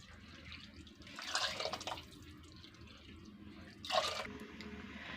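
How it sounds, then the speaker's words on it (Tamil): Water is poured in two short, splashing bursts into a pot of lentils for sambar rice, heard close up over a faint steady background hiss. "அதில் 4 கப்பு தண்ணி."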